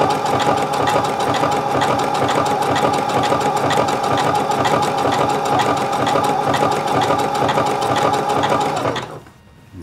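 A sewing machine stitching shorts fabric runs in one loud, continuous rapid whir with a fast mechanical clatter for nearly ten seconds, then stops abruptly.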